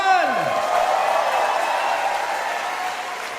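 At a political rally, crowd applause swells after a voice over a loudspeaker, then holds as a broad, sustained roar of clapping and cheering that slowly tapers.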